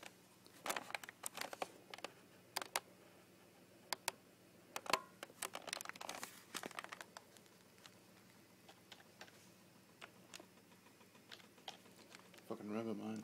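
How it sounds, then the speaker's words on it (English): Irregular light key clicks from typing on a wireless keyboard attached to a steampunk oil-cooled PC, faint and close, in scattered bursts with pauses. "special nifty wireless keyboard from Joker"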